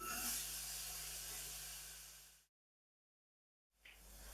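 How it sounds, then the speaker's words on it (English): Chopped onion sweating in a pan for a spicy banana ketchup sauce, giving a steady soft sizzle and hiss that cuts out briefly, then returns. "the very first thing we want to do is we just want to sweat off the onion for about 5 minutes"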